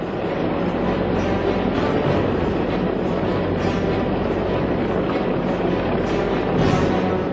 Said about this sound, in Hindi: हेलीकॉप्टर भी थोड़ा नीचे आ रहा है।